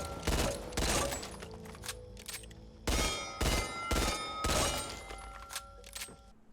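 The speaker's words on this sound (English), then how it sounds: "Now we've got a very nice Beretta M9 burst that fires in 3 rounds." A Beretta M9 pistol firing three-round bursts in the video game Back 4 Blood, several sharp bursts in quick succession with metallic clinks and ringing tails between them, loud and close with no talking.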